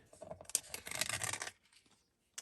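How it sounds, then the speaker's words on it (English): Teflon-coated non-stick scissors snipping through sticky tape, one quiet raspy cut lasting about a second, close by, followed by a faint click. "I'm going to use my Resist the Sticky scissors. They're Teflon, you guys, so the sticky comes off easily."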